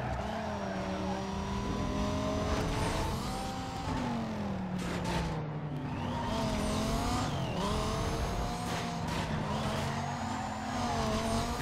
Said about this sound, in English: I'm about to start ramming his car.